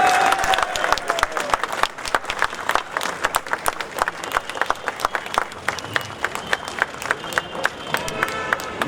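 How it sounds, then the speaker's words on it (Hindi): An audience gives loud, sustained applause to welcome film director Rohit Shetty at a cinema event in Andheri, dense clapping continuing throughout with scattered individual claps standing out. "हम जोरदार तालियों के साथ रोहित साहब का इस्तकबाल करेंगे"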